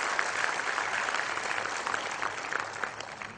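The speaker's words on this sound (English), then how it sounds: "I request all of you to give a big round of applause to today's guest," An audience claps for a guest speaker at a CA Day presentation in Ahmedabad, with steady, even applause filling a hall at moderate distance, no voices over it.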